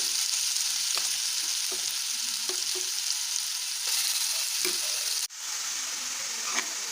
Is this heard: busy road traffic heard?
no